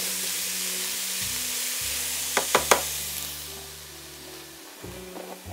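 Chopped jalapeno sizzles with celery in a hot pot for shrimp and corn chowder, a steady close frying hiss with a few sharp crackles and pops partway through, a low background hum underneath.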